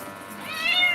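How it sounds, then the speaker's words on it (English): A wet cat meows once during grooming, a single drawn-out, rising cry heard close and clear over faint room noise. "Is that your unwet meow?"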